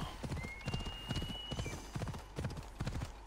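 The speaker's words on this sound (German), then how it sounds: "Jetzt ist das Pferd da." A horse gallops in the video game Assassin's Creed Odyssey, its hooves beating a fast, steady clip-clop rhythm close by, with a brief synthetic tone ringing in the background.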